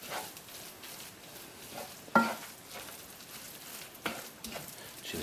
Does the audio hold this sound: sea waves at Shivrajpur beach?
no